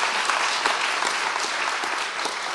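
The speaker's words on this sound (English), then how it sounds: "please, one more round of applause" An audience at a book festival conversation applauds author Scott Turow, a steady, even wash of many hands clapping with no talking over it.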